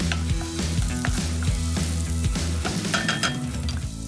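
Garlic and vegetables sizzle and fry in a hot pan, a steady close crackle with occasional stirring and light clinks of utensil against metal, no voices.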